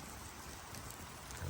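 Steady rain pattering on a tarp hung off a Jeep at a campsite, a continuous even hiss with soft drips, with a brief low thump near the end.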